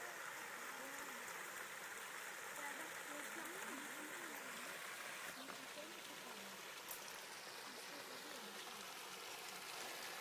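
A clear mountain stream at Barla Beyderesi flows in a steady, soft rushing wash, faint and continuous, with a voice talking quietly beneath it.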